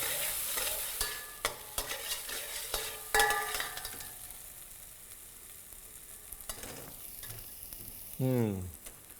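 Peas are stir-fried in a pan for matar ka nimona, with close scraping stirs and a soft sizzle underneath, the strokes irregular and the sizzle fading before one last brief stir.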